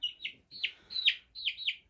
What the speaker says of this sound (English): You are one cool chicken.